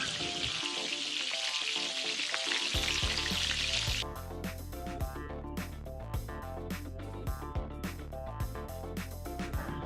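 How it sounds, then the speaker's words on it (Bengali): Pointed gourd (potol) pieces frying in oil for a Bengali chhyachra, a loud continuous sizzle that softens after a few seconds, followed by rhythmic spatula scrapes and taps against the pan. "এবার লাস্টে আমি পটলটা ভেজে নেব এটাও বেশ লাল করে আমি ভেজে নেবো"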